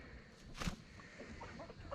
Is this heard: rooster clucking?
yes